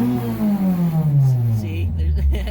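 A Geo Metro (Suzuki Swift) fitted with a swapped Toyota 4AGE engine revs up loudly and close, the pitch climbing steadily and then holding a high, buzzing tone before easing, with a voice briefly over the start.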